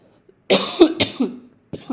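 Two harsh coughs close together, then a quieter third cough after a short pause, close and clear against silence.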